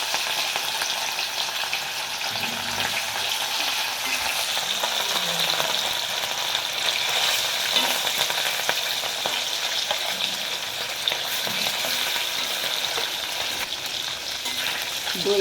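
Pieces of katla fish frying in hot mustard oil, a dense, continuous sizzle and crackle holding loud and even throughout, with faint stirring clinks underneath.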